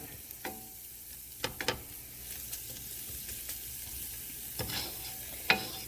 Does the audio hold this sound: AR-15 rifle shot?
no